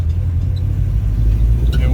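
A Saab 96 Deluxe V4 running in second gear, a steady low engine rumble from inside the car, loud and continuous throughout.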